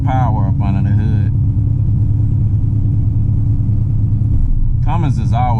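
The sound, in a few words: big Cummins truck engine rumbling under throttle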